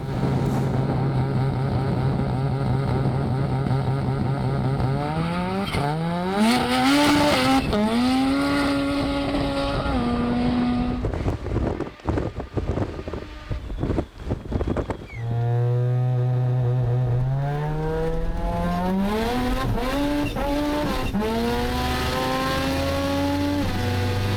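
Rotary-engined Mazda 323 drag car revving at a Drag Battle event: a loud, buzzing engine climbs through repeated rising revs, drops back, then sweeps up again, close and sustained with no talk.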